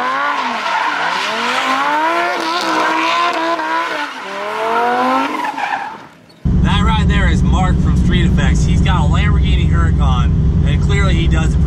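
A car doing a tire burnout, tires squealing loudly and continuously with engine roar, first with a wavering pitch, then cutting to a harsher, denser screech that runs nonstop to the end.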